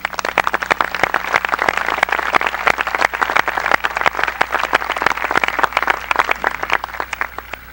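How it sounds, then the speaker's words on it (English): Graduation audience at the Beverly Hills High School Class of 1985 commencement ceremony applauding, a sustained round of many hands clapping in a large hall, steady and even for several seconds. "Would you join me in applauding them?"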